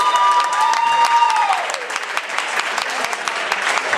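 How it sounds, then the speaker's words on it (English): Wedding guests applaud the co-best man as he takes the microphone, a dense burst of clapping that stays steady for the whole stretch, with some voices and a faint tone fading out early under the crowd. "So big round of applause for Jeff"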